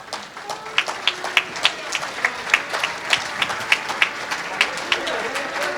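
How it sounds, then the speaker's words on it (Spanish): Church congregation clapping after a sermon, sharp, fairly evenly spaced claps ringing out in a loose rhythm over a murmur of voices in the room. "Aplausos."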